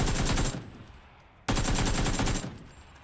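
Rapid automatic gunfire in a video game, two loud dense bursts separated by a brief lull, close and harsh with no voices.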